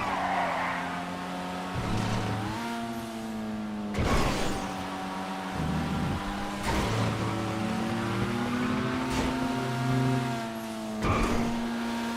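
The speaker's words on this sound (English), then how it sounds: "Car drift down into the tube." Race car engines roar and shift pitch through gears while tyres squeal and skid in a GTA Online stunt race, a continuous loud mix with repeated gear changes and no talk.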